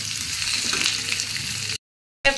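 Ingredients for kadai paneer fry in oil in a kadai, giving a dense, steady close sizzle that cuts to silence near the end and then briefly returns.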